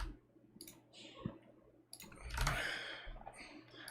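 Faint clicks of a computer mouse, a few brief taps in a quiet room during a live stream, with soft breathing or sighs around them.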